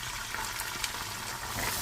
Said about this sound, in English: and I will also be frying the egusi.